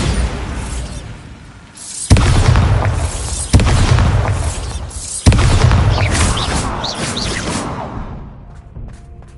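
Bombarda spell blasts in Hogwarts Legacy: three loud, sudden booms in quick succession, each with a whooshing burst, trailing into a fading rumble.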